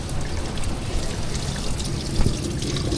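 Engine coolant drains from a popped block line on a Ford F150 2.7 EcoBoost into a bucket below, a steady pouring, trickling stream of liquid heard up close, with a brief louder splash near the end.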